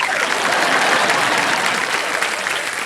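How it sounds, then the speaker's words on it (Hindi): Studio audience applause on a televised quiz show, dense continuous clapping filling the room at full volume throughout, no talk over it. "बहुत बहुत बधाई, तालियां बज जाए इनके लिए।"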